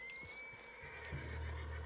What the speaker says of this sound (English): What's wrong with this horse?